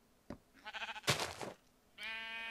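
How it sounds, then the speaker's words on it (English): Minecraft sheep bleat several times in a row, a short bleat followed by a louder, longer one and then a sustained nasal cry. The calls are close and loud, with nobody talking over them. "You sheep, you be quiet. Y'all are a little too loud."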